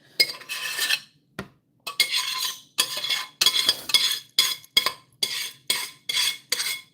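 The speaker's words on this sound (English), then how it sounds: "Sorry about that scraping noise." Repeated harsh scraping of metal against a pot of fresh tomato sauce, coming in about a dozen short rhythmic strokes with brief gaps, loud and close, no talking.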